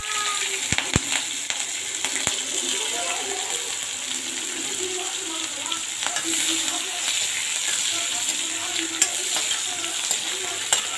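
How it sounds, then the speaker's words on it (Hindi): Cumin seeds frying in a hot pan, a continuous close sizzle with crackling pops and occasional scrapes of stirring throughout. "देखिए जीरा हमने डाल दिया है, ब्राउन होने तक हमें जीरे को पकाना है"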